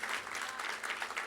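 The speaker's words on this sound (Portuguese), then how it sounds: "Vamos dar mais um aplauso ao Senhor, por favor." Church congregation applauding during a family worship service, a steady dense wash of many hands clapping at moderate loudness without any talk.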